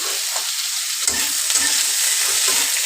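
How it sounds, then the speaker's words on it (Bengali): Bitter gourd pieces frying in hot oil tempered with five-spice, a steady close sizzle with occasional stirring scrapes throughout, no voices. "তেলে 5 ফোড়ন দিয়ে দিয়েছি। এবার উচ্ছেটা দিয়ে দিলাম।"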